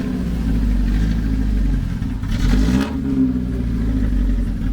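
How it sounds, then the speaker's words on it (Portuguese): A car engine that has just been fitted with acoustic insulation runs at a steady low idle nearby, then revs up briefly and settles back down. No one speaks. "A Daiane tá aí testando o carro dela."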